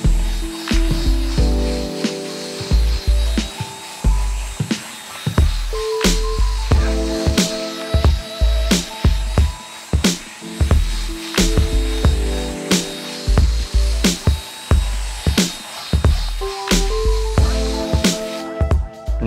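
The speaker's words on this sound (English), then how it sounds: "I'm also gonna use this brush attachment to try to just lift up more debris out of the floor mat" A drill-driven brush attachment scrubs debris from a car floor mat in a steady, loud whirring buzz, broken by rhythmic scraping strokes and brief clatter, with no talk.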